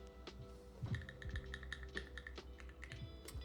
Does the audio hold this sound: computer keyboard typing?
yes